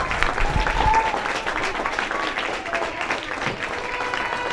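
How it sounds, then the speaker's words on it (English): Spectators clap for the home side at a schools under-13 tapeball cricket match, a dense, sustained patter of applause from a nearby crowd with a faint voice mixed in. "Here the applause for the home side."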